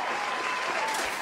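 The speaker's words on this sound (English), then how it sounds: "Let's give a round of applause" Brief applause from a small audience at a live-streamed cover band gig, steady and even for about a second with a faint tone running underneath.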